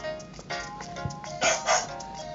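A puppy in the Nintendogs + Cats video game gives a few short synthetic yips and barks over a soft, steady game music bed, with two brighter barks near the middle.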